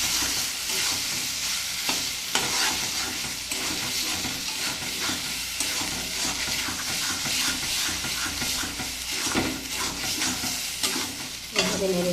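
Prawns cooking in a pan for a coconut and mustard malai curry, frying and being stirred with a steady, close sizzle and scraping of the utensil against the pan, with no talk.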